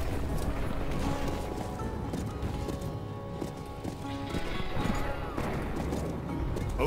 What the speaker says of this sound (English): Oh, I can make the horse jump.